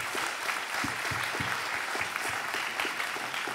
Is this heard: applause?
yes